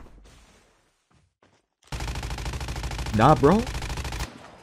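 Call of Duty Mobile gunfire: a loud, sustained automatic burst of rapid shots lasting a couple of seconds, preceded by a short spoken remark and quiet game ambience.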